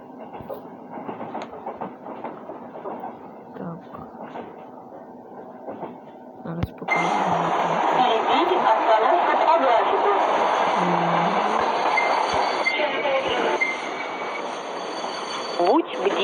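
Passenger train 346 on the Chernivtsi to Uzhhorod line, heard from inside, first a quieter rumble under talking voices, then a sudden louder steady roar of wheels on rails with rhythmic clatter that continues to the end.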